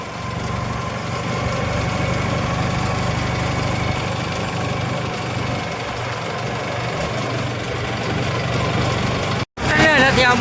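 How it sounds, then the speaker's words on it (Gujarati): A tractor engine idles with a steady low rumble and knocking throb, close and continuous on a farm, with a voice briefly heard near the end. "ટ્રેક્ટર ચાલ્યું ભાઈ"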